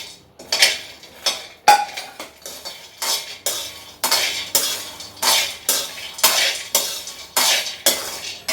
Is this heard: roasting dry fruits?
yes